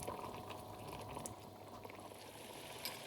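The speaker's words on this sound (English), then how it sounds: "just as it's starting to simmer" Vindaloo curry just beginning to simmer in a pot, soft faint bubbling and gentle popping, steady and quiet with no voices.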